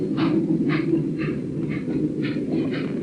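A train rolls by with a steady low rumble and a regular clatter of wheels repeating about twice a second.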